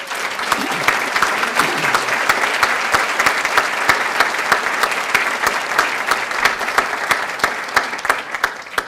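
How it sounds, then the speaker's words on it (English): Sustained audience applause at an award ceremony, steady dense clapping from a large crowd throughout, loud and even with no break. "Your applause now, please, for Meredith Ives."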